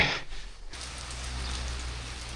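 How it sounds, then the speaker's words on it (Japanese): Steady rain falls outdoors in a cold village in the Sikkim hills, a continuous soft hiss of drops close by with no talking, after a brief dip at the start. "いやずっと雨が降ってるんですけれども"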